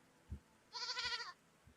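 A goat in the survival video game Vintage Story gives a single faint, wavering bleat of about half a second, framed by soft low thuds before and after.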